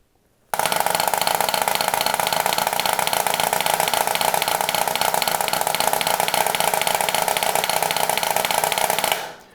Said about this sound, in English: The multiple bounce roll is going to sound like this.